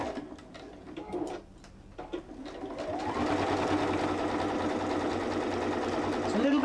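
A sewing machine stitches a sunflower fabric pouch. A few short taps and bursts come first, then a steady close mechanical whirring starts and runs on continuously at an even pace.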